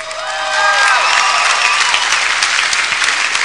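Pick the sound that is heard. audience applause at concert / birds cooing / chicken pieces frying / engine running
audience applause at concert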